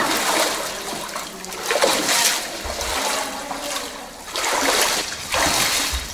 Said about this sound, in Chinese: 循着水声走去，原来是庐江河在燕子洞内的一段支流。